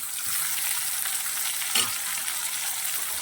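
Tomatoes sautéing in a pan for hotel-style moong dal, a dense even frying hiss running throughout, close and steady, with a single brief stirring knock partway through and no talk.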